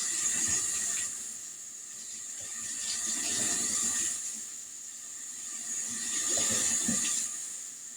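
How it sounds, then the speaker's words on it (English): Hot running water streams steadily from a tap, swelling and easing as cucumbers are rinsed under the flow, close and fairly loud. "If you'll wash them off in hot water, a lot of that waxiness will come right off"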